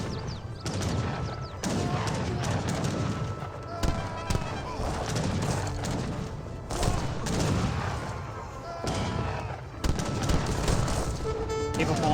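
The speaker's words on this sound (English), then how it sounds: "Light cannons are just ripping apart the skirmishers." Cannon and gunfire battle in Age of Empires 3, light cannons and a Papal Bombard against skirmishers, with dense bursts of volleys, booms and crackling shots in waves, under continuous commentary talk.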